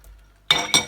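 A spoon clinking against a pot twice in quick succession while stirring garam masala into a rajma kidney bean curry, bright close metallic knocks after a short quiet pause.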